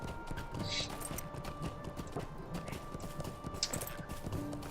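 A horse in the Lord of the Rings Online video game clip-clops with quick, steady hoofbeats, fairly quiet, with faint mechanical clicks and tones in the background.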